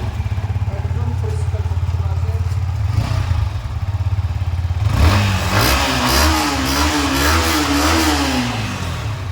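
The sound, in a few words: Yamaha R15 V3 motorcycle engine revving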